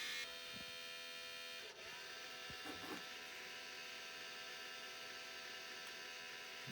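Sony DVP-SR760H DVD player with a faulty tray mechanism, whirring with a steady mechanical buzz and hum, broken by a few brief clicks and clunks as it struggles to play and eject.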